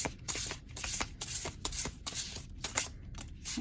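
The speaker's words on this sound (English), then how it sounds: "This will be shuffle number 1. Ooh, and I love that sound." A deck of tarot cards being shuffled by hand, a close run of crisp riffling bursts and flutters in quick rhythm with small pauses between them, heard without talk.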